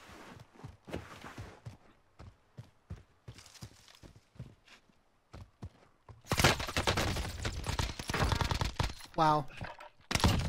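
Rapid bursts of Type 100 submachine gunfire in the video game Warzone, loud and dense in the final seconds, following quieter scattered shots and footsteps earlier.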